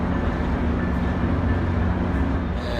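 A loud, constant low rumble of an Amtrak Coast Starlight train idling at a station platform, steady throughout with no voices.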